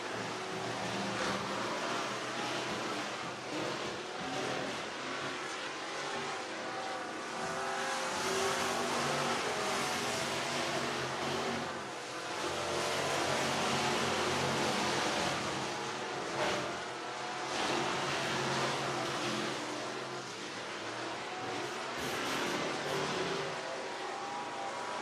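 Race cars accelerate around the speedway at Whynot Motorsports Park in Meridian, Mississippi, with loud, continuous engine roar that swells and fades as cars pass, heard from trackside with no talk.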